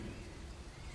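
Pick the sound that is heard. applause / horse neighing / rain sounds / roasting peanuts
rain sounds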